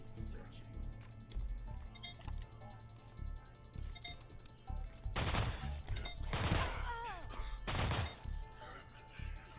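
Gunfire in the video game System Shock: three loud, sharp bursts in the second half of the clip over a low ambient hum, with a person talking quietly beneath.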